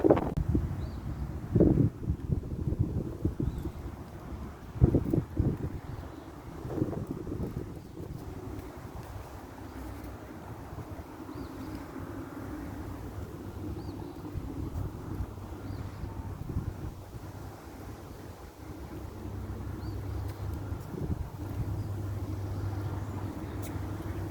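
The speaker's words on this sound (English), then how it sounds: "So, strong wind as usual." Strong wind buffets an outdoor microphone at the Standing Bear Museum and Education Center, with rough low rumbling gusts that stay steady and loud throughout, a few sharper bumps near the start and no talk.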